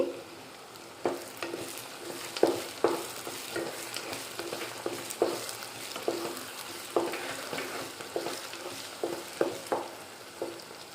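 Green chillies and small tomatoes frying in a pan give a steady sizzle, with frequent rhythmic scrapes and taps of a spatula stirring the pieces throughout.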